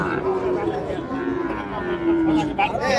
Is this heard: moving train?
no